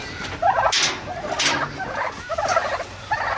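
A big tom turkey on a farm gobbles in several rough bursts, loud and close, with a short pause between calls.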